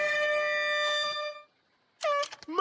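A loud, sustained fog horn blast with a rich harmonic tone sounds for about a second, then cuts off as the horn runs out; a brief sputtering honk follows.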